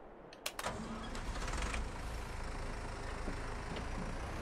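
A tractor engine in Farming Simulator 22 cranks and fires up with a couple of sharp clicks, then settles into a loud, steady rumbling idle that fills the rest of the stretch.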